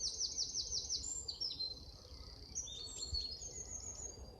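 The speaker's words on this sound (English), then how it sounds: "I hear wrens." Wrens sing at dawn in ancient woodland, with rapid high trilling chirps and scattered tweets from several birds at a moderate distance over a soft, steady outdoor hum.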